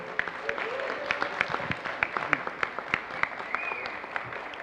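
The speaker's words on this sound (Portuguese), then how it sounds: "Uma salva de palmas, pessoal, por favor" Moderate audience applause at a Lei Rouanet workshop and talk, a steady patter of hand claps with a few sharper individual claps standing out over a soft crowd murmur.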